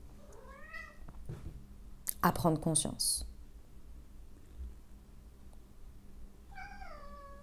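A cat meows twice, a drawn-out wavering call near the start and another at the end, with someone speaking briefly between them in a quiet indoor room.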